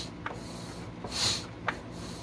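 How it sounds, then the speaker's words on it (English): On a Kohler V-twin engine with a blown head gasket, compression escapes in short hissing puffs as the engine is turned over by hand, close and faint, roughly three bursts with one longer sigh in the middle. "what you're hearing is basically the compression from the cylinder escaping"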